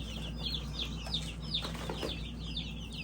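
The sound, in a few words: baby chicks chirping and clucking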